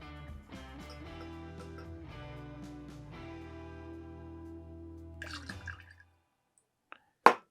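Drambuie liqueur pouring into a cocktail glass, a steady trickling stream for several seconds that tapers off into silence, followed by a single sharp clink.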